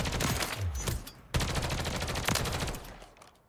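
Rapid automatic gunfire at a firing range in the video game Modern Warfare rattles out in loud, tightly spaced bursts, with brief pauses between volleys before trailing off, and no one talking.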